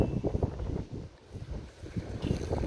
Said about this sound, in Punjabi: ਇੰਨੀ ਹਵਾ ਚੱਲਦੀ ਆ